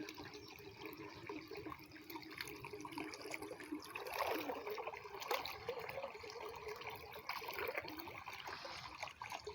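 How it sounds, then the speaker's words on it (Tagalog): Water trickles and dribbles faintly in a flooded field, a soft continuous liquid burble with slight surges, heard from close by with no talking. "May tubig."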